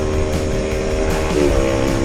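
Motorcycles run along a route, a loud continuous engine drone that holds steady throughout at close range, with no talking.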